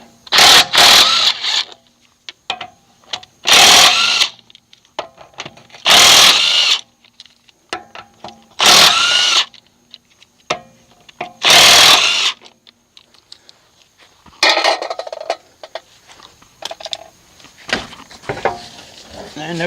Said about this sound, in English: 17 millimeter impact socket will remove the lug nuts.